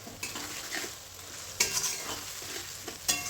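Chicken curry with chili, ginger and cumin paste frying in a pan, a continuous soft sizzle broken by several sharp scrapes and clanks of a spoon stirring against the pan.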